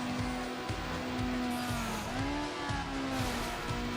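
Racing car engines in Need for Speed Underground whine steadily with rising and falling revs, a continuous loud mechanical drone with occasional tire screech, no talking.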